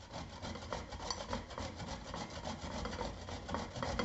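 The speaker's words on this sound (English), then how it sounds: "we are going to start grating the cucumber" A cucumber, seeds and all, is rubbed over a grater in quick, even back-and-forth strokes, making a continuous close rasping scrape with no talking.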